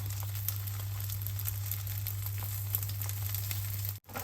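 Steady close sizzling of pre-cooked, blanched bacon frying in a pan, continuous and fairly loud with a low steady hum underneath, cutting off abruptly near the end.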